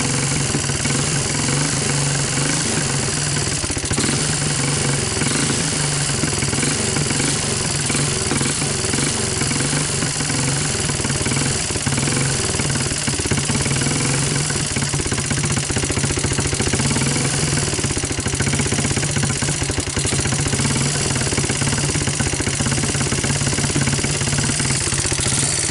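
A Honda TRX200SX ATV engine runs with very loose valves, giving a continuous loud mechanical idle with a rapid ticking clatter layered over the engine drone, steady throughout.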